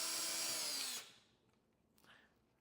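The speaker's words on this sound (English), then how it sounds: "now we're gonna start pulling out the bolts for the wiring harness here" A power driver spins out a black T20 bolt from the wiring harness area of a 2020-2025 BMW S1000R/XR motorcycle, a loud close whirring burst that cuts off after a second, followed by a faint small clink.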